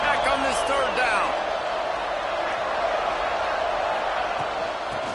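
A stadium crowd roars steadily at a Texas Tech football game on third down, a dense, constant wash of noise heard from a distance under a commentator's voice.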